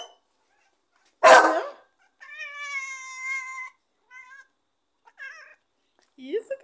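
Several cats meow at snack time, a loud close cry followed by a long tonal meow and shorter mews between pauses, with a soft voice speaking Portuguese nearby.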